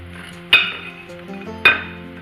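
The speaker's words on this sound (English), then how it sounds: "We're going to take the biscuits and we're going to put them on the plate and cut them in half" Two bright clinks of a utensil against a plate as biscuits are set down and cut in half, each strike ringing briefly over a quiet kitchen hum.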